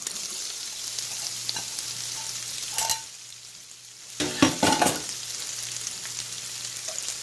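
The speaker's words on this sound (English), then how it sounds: "Now I'm replenishing my olive oil and my ghee. And in that, I'm going to stick a half an onion." Half an onion sizzling in olive oil and ghee for creamy Tuscan shrimp, a soft steady frying hiss that dips into near quiet midway, broken by a few clinks and a burst of louder spattering.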